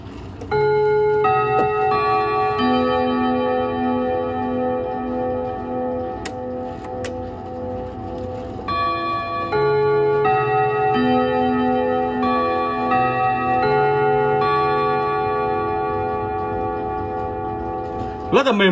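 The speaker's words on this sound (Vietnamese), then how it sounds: "Cho các bác nghe tạm qua tiếng chuông nhá." An antique Vedette wall clock with a T-shaped gong strikes a long chime sequence, clear ringing tones sounding one after another and overlapping as they sustain and fade, heard up close with no speech.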